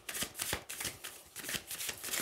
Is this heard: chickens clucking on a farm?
no